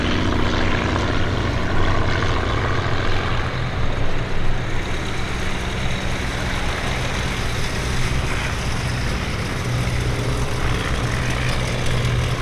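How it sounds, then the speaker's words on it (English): An antique airplane with engine trouble comes in for an emergency landing at an old aerodrome, a continuous rough engine drone that stays fairly loud and steady throughout the clip, with no one talking. "we have one of our airplanes that's having some engine issues, so we're going to have an emergency landing here"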